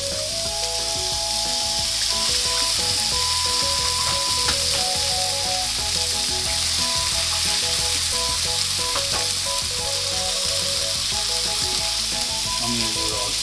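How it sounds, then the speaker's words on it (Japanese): Two eggs fry in a pan beside browned sausages over medium heat, a loud, dense, continuous sizzle and crackle heard up close throughout, with no voices. "中火に落としてソーセージがもうある程度ね焼けたら、ここで卵、贅沢に2エッグ"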